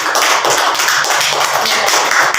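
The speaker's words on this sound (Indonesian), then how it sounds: "kita beri aplaus untuk Mbak Safiana" A classroom group gives a presenter a short round of applause, dense steady clapping from many hands, close and loud with no talking.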